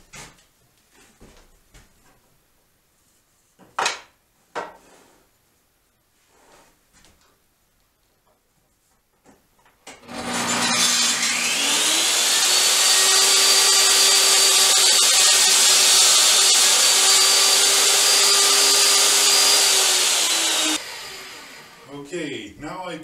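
A woodworker's power saw making a first cut, starting up after a few quiet taps and knocks and then whining loudly and steadily for about ten seconds before winding down, close by.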